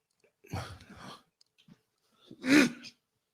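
A short breathy burst, then a pause, then one louder explosive sneeze-like blast, close by with no talking.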